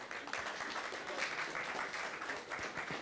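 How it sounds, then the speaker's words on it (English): An audience applauds a presenter at a planetarium-association paper session, a dense, steady patter of many hands clapping that holds at an even level for about three seconds with no voices. "Round of applause."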